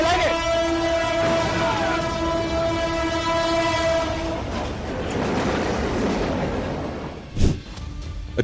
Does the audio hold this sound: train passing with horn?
yes